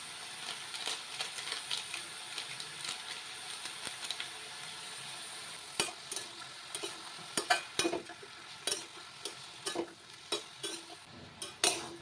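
Bottle gourd curry with fish head sizzles quietly in a pan while a spatula stirs it, sending irregular scraping knocks that grow busier toward the end over a low, steady frying hiss.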